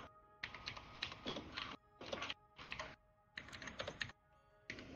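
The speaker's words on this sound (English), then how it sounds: "Is that typing though?" Rapid keyboard typing in bursts of clattering keystrokes, close and fairly quiet, separated by short pauses over a faint hum.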